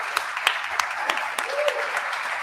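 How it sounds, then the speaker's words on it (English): Audience at a conference clapping for a speaker as he is introduced, a steady wash of applause with sharper individual claps standing out, moderately loud and continuous, with some voices mixed in. "Let's give a big round of applause to Adam."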